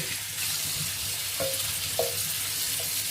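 Blackberries are swished and rinsed in water, giving a continuous watery splashing with a few small clinks against the bowl.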